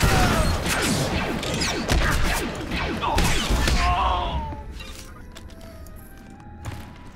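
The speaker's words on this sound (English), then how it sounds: "Gunfire in the background." Dense bursts of rapid gunfire and crashing impacts in a cave scene in the game Star Wars: The Old Republic, loud at first, then thinning to scattered shots and faint rumble.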